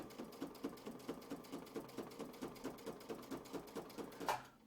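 A sewing machine stitches along the outside of a quilting template, giving a quiet, steady, fast run of rhythmic needle thumps that ends in a short mechanical clunk.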